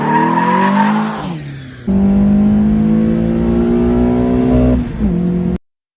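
A Mk2 Golf GTI running about 40 brake horsepower over stock revs hard toward 7,000 RPM, drops pitch on a quick shift, then climbs again in the next gear, loud and close with a rising whine until it cuts off.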